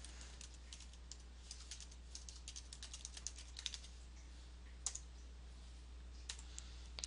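Quiet typing on a computer keyboard while working in Excel 2010, a steady patter of light key clicks with a few sharper taps, close to the microphone over a low electrical hum, with no talking.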